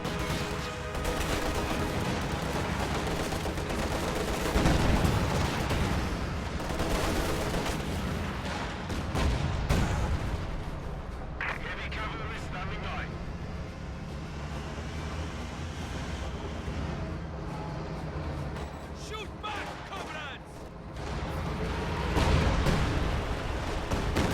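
Katyusha rocket artillery fire in Company of Heroes, a continuous loud battle din of launches, booms and rumbling impacts that swells and fades repeatedly, with no voices.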